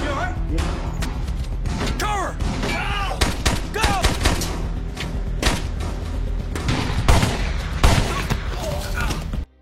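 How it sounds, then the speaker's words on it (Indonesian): Bursts of gunfire crackle repeatedly in a film shootout over a dense, loud soundtrack, with voices and tonal effects mixed underneath throughout. "tiba-tiba kontak senjata pun pecah"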